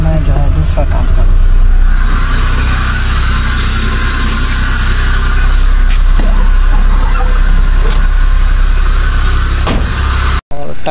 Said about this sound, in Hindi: थोड़ी देर स्टार्ट रहने देते हैं क्योंकि गर्म हो जाए